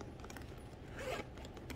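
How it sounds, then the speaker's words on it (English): A zipper on a Chanel bag is pulled once in a single short, soft zip. The rasp is close but quiet. "It has a zipper"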